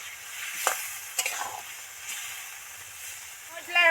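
Spice paste with a little liquid sizzling in a pan for a snakehead fish curry, stirred with a few sharp scrapes over a continuous close frying hiss.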